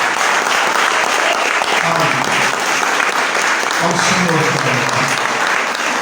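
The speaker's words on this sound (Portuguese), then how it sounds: "Eu gostaria que você aplaudisse ao Senhor." A church congregation claps for the Lord in sustained, dense applause, while a preacher's voice speaks over the clapping.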